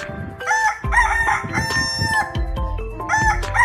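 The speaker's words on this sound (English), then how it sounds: "Yes, this is a chicken." Chicken crowing in several close, loud cock-a-doodle-doo calls in a row, with clucks mixed between them and no talking.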